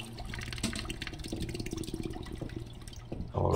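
A toilet flushing in the video game Death Flush: rushing water swells steadily throughout, with a louder gush near the end and no one speaking.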